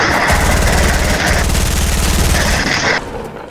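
Rapid automatic gunfire from a Fortnite Battle Royale match rattles loud and continuous for about three seconds, with dense bursts of shots layered over a faint voice before the firing tapers off.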